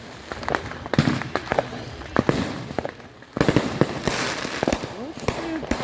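Fireworks and firecrackers going off on Christmas Day, a run of sharp, loud bangs and crackling pops at irregular intervals, some close and some farther off, with a short lull before a dense burst.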